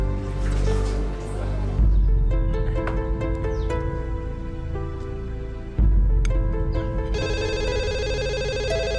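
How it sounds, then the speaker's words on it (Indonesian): A telephone rings repeatedly in a short rhythmic pattern over an indoor scene with music and other noise, the ringing growing more prominent and electronic near the end. "Saya terima telepon dulu."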